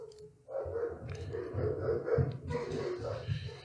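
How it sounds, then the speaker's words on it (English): Dogs bark and growl indoors in short bursts, a few loud woofs close by, with no talk over them. "And the dogs are going to bark a little bit."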